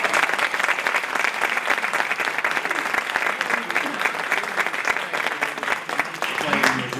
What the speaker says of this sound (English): can we give another round of applause to our Eddie Steiner team?